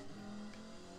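A Peugeot race car engine in Gran Turismo Sport drones steadily at a held pitch, a short, fairly quiet continuous engine tone with no talking.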